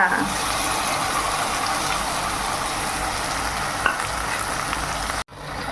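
Okra frying in a pan with mustard paste gives a steady, loud sizzle and crackle that runs almost unbroken, with a faint stir or clink near the middle before it cuts out abruptly at the very end.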